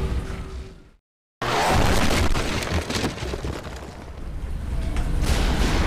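Explosions in the God of War video game. A brief dropout of near silence is followed by a dense, loud burst of booming, crackling blasts and whooshes that carries on with surging intensity.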